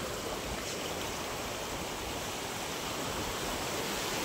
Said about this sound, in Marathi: बघा कसं पाणी येतंय, इकडनं पाणी असं खाली पडतोय.